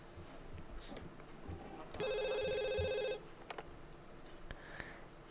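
A telephone rings in The Sims 2, one electronic ringtone burst of about a second over quiet game background, with brief soft clicks before and after.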